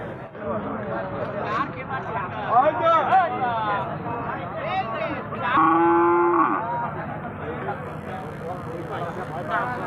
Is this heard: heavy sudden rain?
no